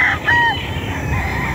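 Brood stag gamecock crowing close by, one short strident crow with a rising and falling call over a noisy farmyard background.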